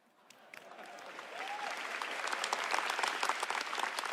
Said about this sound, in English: And a round of applause for our pre-game show superstars, ladies and gentlemen.